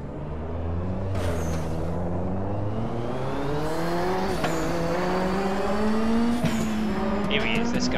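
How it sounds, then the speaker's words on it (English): Race car engines in the RaceRoom racing game roar continuously and loudly, with rising and falling pitch through repeated gear shifts over the whole stretch. "This car sounds godly, you're right."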